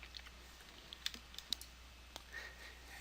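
A computer mouse clicks several times in quick, irregular succession, with sharp, faint taps spread over a quiet room hum. Nobody talks.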